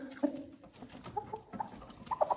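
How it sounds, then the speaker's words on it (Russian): Young hens give soft, scattered clucks and short murmuring calls close by, fairly quiet, with small pauses between the notes. "Вот таких вот курочек, молодых курочек"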